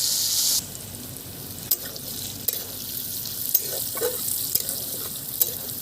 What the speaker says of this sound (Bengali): ক্যাপসিকামটা ফ্রাই হয়ে আসা পর্যন্ত অপেক্ষা করুন